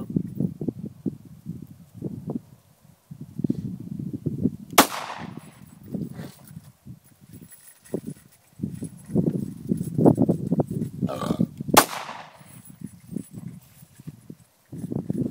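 Two sharp, loud Glock 26 pistol shots ring out outdoors several seconds apart, each a single crack with a fading tail, with people talking and moving around before, between and after them.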